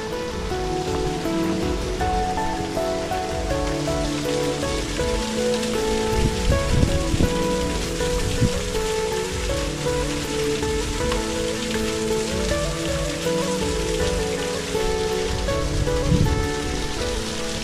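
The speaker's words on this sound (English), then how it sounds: "the water cascades into first before going down the waterfall down into the Italian lake" A waterfall cascades down into the Italian lake at Rivington Gardens, producing a steady, dense rushing roar that holds constant throughout with no voices.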